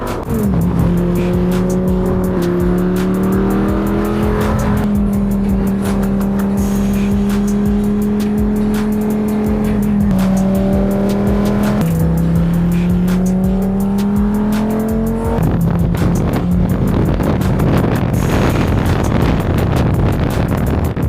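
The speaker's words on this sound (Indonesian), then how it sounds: "karena saya sedang naik Lamborghini" A Lamborghini cruising along a coastal road gives a loud, sustained engine drone heard from inside, with pitch stepping up and down through gear changes over steady road and wind roar, no voices.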